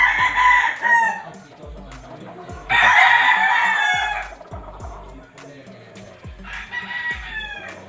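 A sweater-breed gamefowl rooster crows at a game farm, loud and close, with a full crow at the start, another in the middle and a third near the end. Low clucks and farm noise fill the gaps between crows.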